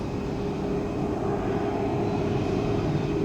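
A jet airliner takes off from a runway at Orlando airport, its engines giving a steady, loud roar throughout with no voices.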